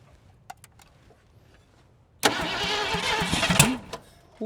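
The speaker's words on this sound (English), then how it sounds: "Still backfiring through the carb." A 1979 Ford Mustang engine, long abandoned, cranks and catches with a loud rough burst of running for about two seconds, sputtering and popping as it backfires through the carburetor, then cuts out, after a quiet stretch with faint clicks.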